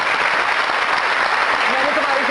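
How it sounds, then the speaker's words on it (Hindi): Studio audience applause on a Hindi-Urdu comedy talk show, a dense steady wash of clapping filling the whole stretch, with a faint voice rising underneath near the end. "बहुत सारी तालियां दोनों खवातीन के लिए।"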